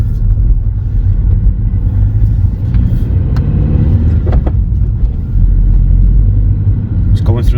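A VW R-Line hatchback drives along with a loud, rumbling engine and road noise, the revs rising and dropping as it moves through the gears, with clicks and knocks from the cabin and speech over it.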